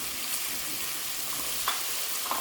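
Mutton liver (kaleji) sizzling and frying steadily in a pan as fresh green chilies are added, a continuous close hiss with a few brief stirring scrapes and pops.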